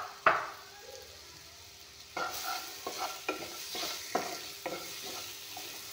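Cumin powder frying in a pan and being stirred with a utensil, a quiet steady sizzle broken by several sharp scraping strokes, with no voices.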